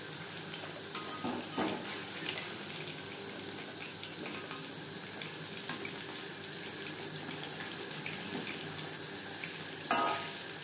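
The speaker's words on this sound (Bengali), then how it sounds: "পাকোড়া ভাজবো মিডিয়াম ফ্লেমে" Chicken pakora frying in oil on a medium flame, a constant soft bubbling sizzle with a few faint stirring clicks and a brief louder scrape near the end.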